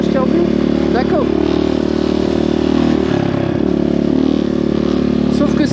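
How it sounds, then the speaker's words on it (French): ERZ 250 Pro 250cc motocross bike, new and short on fuel, revving steadily close up with a loud, continuous engine drone that wavers and hesitates without clearing. "si je mets poignée dans l'angle, il y a un trou. Il manque de l'essence."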